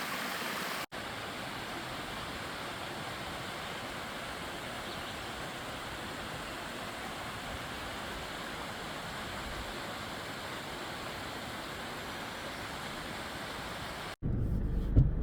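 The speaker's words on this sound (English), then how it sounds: "as you can see, water. It's flowing beautifully through here right now" Stream water near a trailhead rushes in a steady, dense wash that runs for about thirteen seconds without pause, fairly close, with no voices over it.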